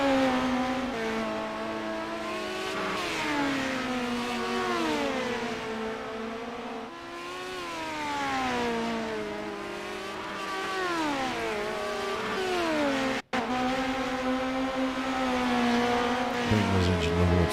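Several small midget race cars from a racing video game, set at Lucas Oil, buzz around the track in a steady layered drone, with engine pitches sweeping up and down as they accelerate and lift off.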